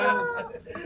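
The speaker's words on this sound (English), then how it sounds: "There's your chicken noises," Goofy chicken clucking and crowing noises in a piece of video game music, heard as a short, bright, loud burst of layered bird-like squawks over tonal music.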